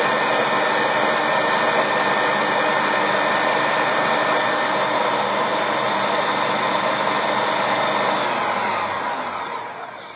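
A Magimix food processor chops tomatoes for salsa, running as one continuous, loud, dense whir for about nine seconds before it winds down at the end. No voices can be heard over it.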